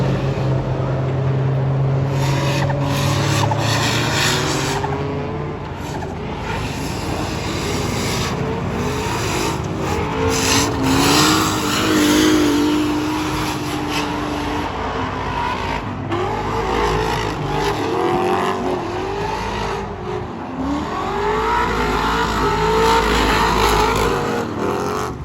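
A body-swapped C6 Corvette race car accelerates hard in first gear on tires dropped low to bog the motor, its engine roaring loudly and continuously for the whole stretch, with rising and falling revs and some tire noise.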